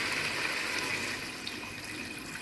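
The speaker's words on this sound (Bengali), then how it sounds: "এখন ঝোল দিব।" Broth pours steadily into a cooking pot holding rui fish with young pumpkin, a close, continuous liquid gush with no talking.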